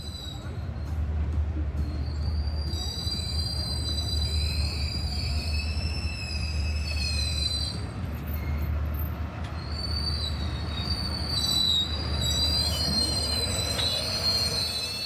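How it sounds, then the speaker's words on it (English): A North-South Railway train in Hanoi rumbles steadily past close by along a city street, its wheels letting out shrill, wavering squeals over a low continuous drone. "This is the famous North-South Railway, also known as the Thong Nut Train."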